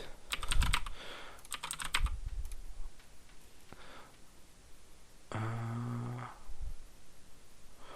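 Bursts of computer keyboard keys clicking as a password is typed, a couple of quick clustered runs early on, fairly close and moderate, with a humming tone and other faint noises later.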